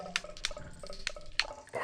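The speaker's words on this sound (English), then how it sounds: "There was water all over the floor." Water drips onto a flooded floor in a few scattered, close, wet plinks over a quiet watery background.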